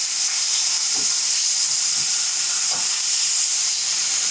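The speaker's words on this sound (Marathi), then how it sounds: "कांदा अर्थातच बदामी रंगावर परतून घेऊया" Salted onion frying in a pan on the way to a golden brown, a loud, even hiss of sizzling oil holding steady throughout, with a few faint low knocks of a spatula underneath.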